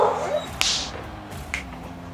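Dogs bark and whimper indoors during a Rocket League tournament stream, giving a few brief, sharp yips and high whines spaced over about two seconds above a steady low background hum.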